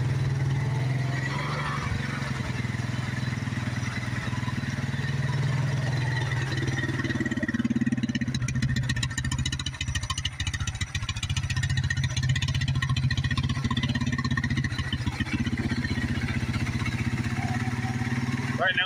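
Yamaha Terra Pro 350 ATV idles in neutral with the park brake on, a steady low engine rumble close by that holds even throughout while someone talks over it.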